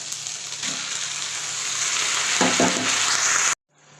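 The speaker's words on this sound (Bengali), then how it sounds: "এবার আমি আলু বেগুন যেটা ভাজছিলাম ওর মধ্যে দিয়ে দেবো তো এটা ভাজা কমপ্লিট এর মধ্যে আমি শাকটা এর মধ্যে দিয়ে দেবো" Leafy greens frying with potato and eggplant, a steady bright hiss of oil close by, a couple of soft stirring knocks near the end before it cuts off; no voices.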